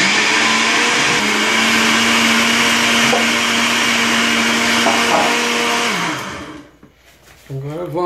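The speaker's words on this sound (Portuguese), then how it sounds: "Agora vamos bater." A blender runs loud and steady, whirring through chocolate pudding batter for about six seconds before winding down and stopping.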